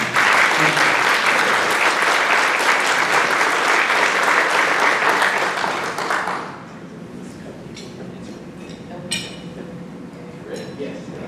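A Rotary club crowd gives a round of applause, loud and sustained for about six seconds, then stops abruptly, leaving a quieter room with faint clinks of dishes and cutlery.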